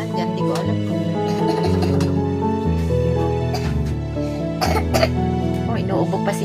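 A child coughs a few times in short bursts toward the end, partly buried under steady background music and voices.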